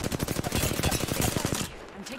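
Rapid automatic gunfire in the video game Apex Legends, a dense close burst of fast repeated shots that stops abruptly near the end, with game noise underneath.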